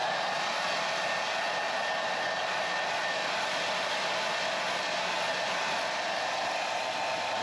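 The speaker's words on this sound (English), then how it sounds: "warming it up with the hairdryer," A hair dryer blows steadily at close range over freshly painted Lexan, a constant loud whooshing hiss with a faint high whine, unbroken from start to finish.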